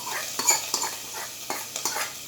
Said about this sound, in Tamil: கடுகு, நம்ம பச்சை மிளகாய் எல்லாம் நல்லா பொரிஞ்சிருச்சு